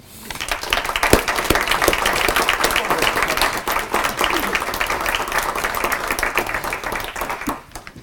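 Sustained audience applause fills the room for about eight seconds at an indoor talk on abolishing nuclear weapons, dense overlapping clapping that holds steady before tapering off at the end.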